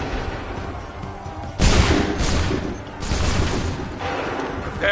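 Musket volley in the Assassin's Creed 3 video game, a loud crackling burst of gunfire followed by rolling booms and smoky rumble, a second surge a moment later, dense and close.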